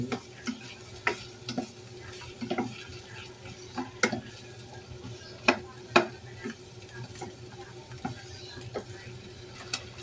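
White onion sautéing in a pan while fish steak cooks: a quiet, low sizzle runs throughout, broken by scattered sharp taps and scrapes of a utensil against the pan.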